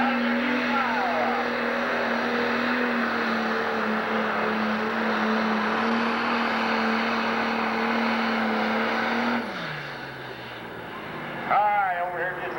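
Pulling tractor at a 1997 Illinois Tractor Pulling Association event in Sandwich, Illinois, its engine holding a loud steady roar down the track, then winding down abruptly; a voice speaks over it.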